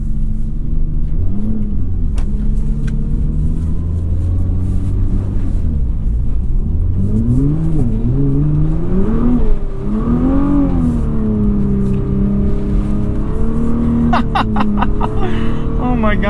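A 2021 Nissan GT-R drives through snow, its engine revving up and down in repeated close, loud surges over a steady low rumble.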